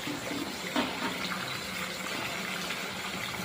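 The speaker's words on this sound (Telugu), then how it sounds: "అవి కాలిపోయి వాటర్ అక్కడి నుంచి లీక్ అయిపోయి వచ్చేస్తున్నాయి" Water leaking steadily from a municipal water pipeline burnt by the heat of a Bhogi bonfire on a street, a continuous rushing, hissing flow with no voices.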